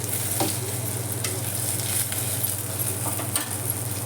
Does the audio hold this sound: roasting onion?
yes